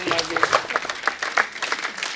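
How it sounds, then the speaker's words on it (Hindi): A television show audience gives a scattered, uneven round of applause with distinct individual claps, while voices mingle in the background. "जैकी सर के लिए जोरदार तालियां।"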